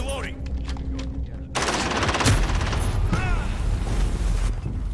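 Shotgun slugs firing in a console deathmatch video game, a dense run of loud repeated blasts after a quieter opening, with talking underneath.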